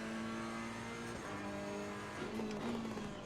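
A race car in Assetto Corsa Competizione brakes hard into a corner, its steady engine drone dropping in pitch through a downshift midway, then picking back up, with no talk over it.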